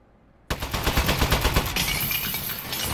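A turret machine gun in the video game Aperture Desk Job bursts into rapid automatic fire after near silence, a loud rattling stream of shots that continues to the end.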